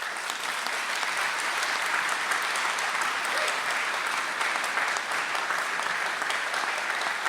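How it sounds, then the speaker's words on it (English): Audience at the 2015 SOCAN annual general meeting claps for the team, a sustained even round of applause from a hall full of people. "if you could give them a big round of applause"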